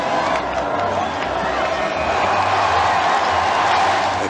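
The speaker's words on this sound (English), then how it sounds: "A kiss, which receives a roar of approval from the crowd" A large street crowd of spectators near St. Paul's Cathedral roars in sustained approval at a royal wedding kiss, a dense, steady wall of cheering with a low rumble throughout.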